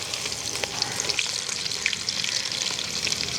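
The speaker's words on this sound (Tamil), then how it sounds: "இச்சை பூண்டு வறுத்து எடுத்துக்கலாமா" Garlic sizzles and crackles steadily in hot oil during a village kitchen cook-up of homemade papaya kurkure, with occasional stirring scrapes and no voices.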